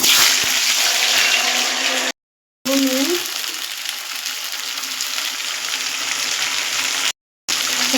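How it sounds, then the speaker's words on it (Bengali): Vegetables tipped into hot oil in a pan, sizzling and frying with a loud, steady hiss that cuts out briefly to silence twice. "তেল গরম হয়ে গেছে, এবার আমি এই সবজিগুলো এর মধ্যে দিয়ে দেবো।"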